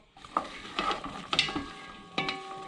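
Onions and vegetables sautéing for red snapper fish head soup, a soft sizzle under several sharp metallic clinks and scrapes of a utensil on the pot.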